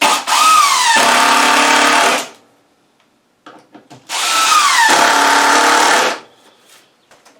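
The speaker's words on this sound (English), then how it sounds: "And I'm going to put these screws in." A power drill drives screws into a 2x4 bench seat slat in two loud bursts of about two seconds each, the whine climbing and dropping as the screw bites, with short quiet gaps between.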